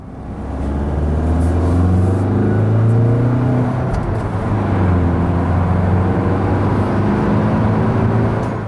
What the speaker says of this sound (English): But there is one area where the diesel disappoints. It's really quite loud.